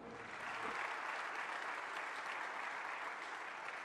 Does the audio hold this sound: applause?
yes